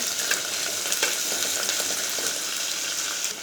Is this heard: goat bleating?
no